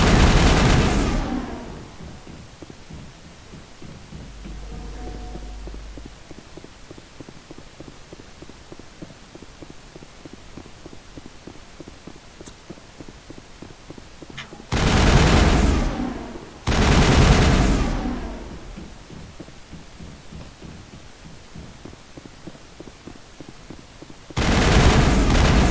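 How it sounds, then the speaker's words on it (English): Gunfire erupts in the video game Mass Effect during a fight to escape: loud broadband bursts at the start and again in three later blasts, separated by long stretches of low humming game ambience. "still have to shoot my way out of this"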